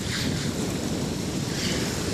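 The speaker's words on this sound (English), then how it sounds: "Boy, that wind is brutal." Strong, brutal wind blows over broad floodwater near a levee and raised road, a steady, loud roar buffeting the microphone with no pauses.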